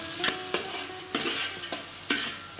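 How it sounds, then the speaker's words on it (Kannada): Half a kilo of onions frying in hot oil in a large pot makes a loud, close sizzle, with repeated scraping strokes of a ladle stirring them at a steady rhythm; no one speaks. "ಈಗ ಈರುಳ್ಳಿ ಹಾಕಿರ್ತೀನಿ ಸರ್."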